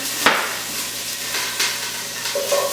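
Large vegetable chunks set into a hot pan with olive oil, a sharp clunk followed by steady sizzling and frying hiss, with a few softer clunks as more pieces go in.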